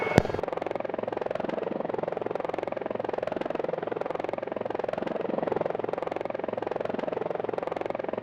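Helicopter flying over the erupting Kilauea volcano, a steady loud rotor and engine drone with constant blade buzz throughout, close and continuous, no talk heard.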